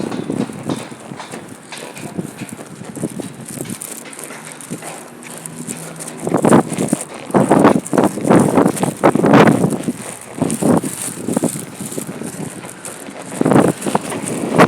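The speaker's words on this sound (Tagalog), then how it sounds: "mahangin nililipat yung aking payong" Hot wind gusts buffet the microphone on a Riyadh street outdoors, with rough bursts of blowing noise growing stronger midway, alongside faint footsteps and clattering.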